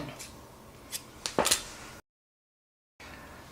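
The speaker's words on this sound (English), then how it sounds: "then I'll cut this yarn" Scissors snipping through crochet yarn in a few quick, close, crisp cuts, with a short burst of snips near the middle, followed by a moment of silence and faint room noise.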